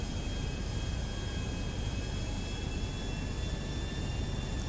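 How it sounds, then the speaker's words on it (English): Airplane engine in Grand Theft Auto V drones steadily in flight, a constant broadband roar with a low rumble and faint high whine, alone and unbroken throughout. "now we have to just, you know, casually fly away in an airplane"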